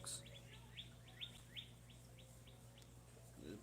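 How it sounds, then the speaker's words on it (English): Outdoor birds tweet in a quick run of bright, faint chirps, a dozen or so short calls repeating over a steady low hum in the background. "There's birds tweeting everywhere."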